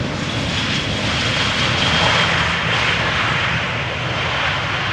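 A Vueling jet airliner wearing part of the Level livery arrives at Amsterdam Schiphol on a sunny day, its engines giving a steady, loud broadband roar that holds evenly throughout.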